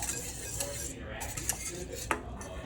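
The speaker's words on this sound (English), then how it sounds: "And you're just going to whisk it around so it's all mixed in." Milk warming in a pan being whisked, a faint, continuous metallic scraping and light clinks against the pan with a few sharper taps, quiet and close.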